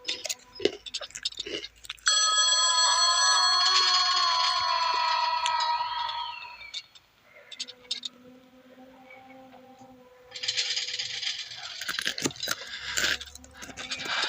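Phone ringing in a game setting, a repeated electronic ringtone pattern lasting several seconds, then a quieter tonal stretch and a later burst of bright noisy sound; no speech.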